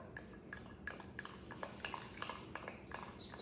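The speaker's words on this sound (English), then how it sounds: "Stirring" Mug cake batter for a confetti mug cake is stirred in a mug, producing faint, quick, evenly spaced clinks and scrapes of a utensil against the mug's sides.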